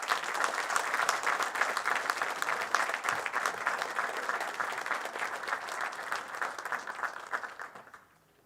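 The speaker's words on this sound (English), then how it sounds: "can we get one last round of applause for all the students' achievements this evening?" Audience clapping at a regimental awards ceremony for students, a dense sustained round of applause that holds steady and then fades away at the end.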